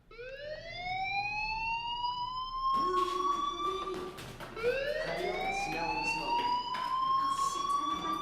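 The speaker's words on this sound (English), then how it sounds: "do you hear that fire alarm? That means you should be outside." A fire alarm in the video game Life is Strange rings out in loud, repeated rising electronic whoops, each sweep climbing in pitch, sounding continuously over a faint background.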